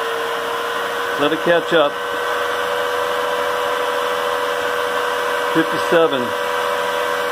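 Tesla turbine driving a high-speed generator as it spins up, a loud steady whine with a fixed high tone, broken twice by short bursts of someone talking.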